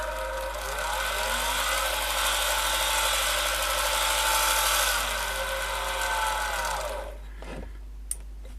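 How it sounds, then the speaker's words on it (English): A small eBay polishing and sanding machine on a motor speed controller whines steadily, its pitch sweeping up and down with variable speed adjustments, then winding down and stopping, heard close with a constant low mains hum underneath and no talk. "So we plug it in and we turn the motor controller on, and you see I've got a variable speed adjustment."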